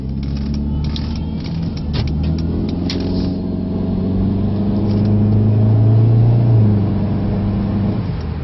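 A 2003 Chrysler PT Cruiser Dream Cruiser Series 2 accelerates on a test drive, its engine rising in a steady climbing drone over road rumble, with a few clicks early on.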